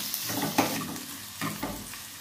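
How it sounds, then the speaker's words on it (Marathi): Finely chopped onion and ginger fry in hot oil over medium flame for a Malvani fish curry, with a soft continuous sizzle and a few stirring scrapes and taps, close and fairly quiet. "त्यानंतर आपण त्यात बारीक चिरलेला कांदा आणि आलं घालून साधारण अर्धा मिनिट परतणार आहोत"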